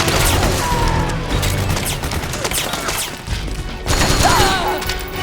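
Suppressing gunfire rages in the Metal Gear Solid 4 video game: a dense, unbroken barrage of shots with booms and crashing impacts, loud and continuous throughout.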